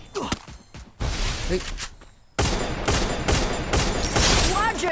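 Rapid bursts of gunfire from the battle royale video game Free Fire, several loud volleys and single shots packed close together across the clip, with brief gaps and someone talking excitedly over the shooting.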